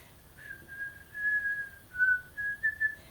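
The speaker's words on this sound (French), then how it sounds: "Puis après on le siffle." A single person whistles a slow, wavering chant melody in clear, sustained phrases, close and alone against a quiet background.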